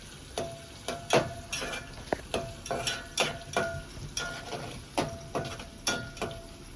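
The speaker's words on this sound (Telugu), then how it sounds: "అంటే ఎంతసేపు కలుపుకోవాలి? ఉల్లిగడ్డలు ఎర్ర కావాలి." Onions frying in a pan for a jowar roti and cabbage dish, stirred with a spatula in a steady rhythm of scraping strokes over a continuous sizzle, close and moderately loud with no talking.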